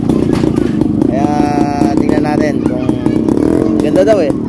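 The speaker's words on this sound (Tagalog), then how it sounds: "Manonood tayo ng mga nagpa-practice ng mag-trail, mga nagmumotor." Trail motorcycles ride a dirt trail at a Baybay, Laguna trail-riding event, their engines droning loudly and steadily with occasional revving, while people talk over the noise.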